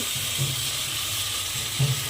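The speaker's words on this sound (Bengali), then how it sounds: "সেই ভাজা আলুটা আমি এর মধ্যে দিয়ে দেব।" Fried potatoes drop into hot oil with sizzling spices while cooking a fish-head and flattened-rice ghonto, giving a steady close hiss of frying with a couple of faint stirring knocks.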